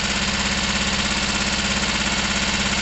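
A Gilera DNA 125 scooter engine idles with the choke on after a carburettor and intake change, a close, steady, rapid chugging pulse that continues evenly for a few seconds.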